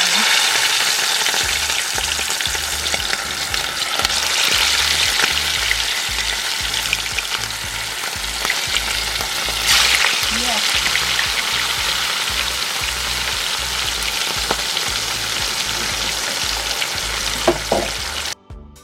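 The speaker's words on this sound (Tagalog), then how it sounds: "Yun yung gagamit natin sa pagpiprito ng ating isda." Fish sizzles as it fries in coconut oil, a steady dense crackle running nearly unbroken and close throughout, with occasional sharper pops and no talk.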